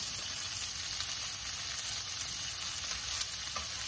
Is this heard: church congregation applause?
no